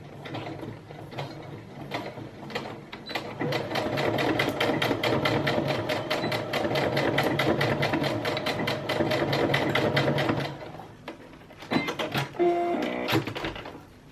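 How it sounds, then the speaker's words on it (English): A sewing machine runs straight stitching back and forth to close off a small seam on a bra, a steady fast mechanical whir with short pauses and restarts, close and clear with no talk. "I'm using small stitches here, and you're just going to go back and forth until you close it off."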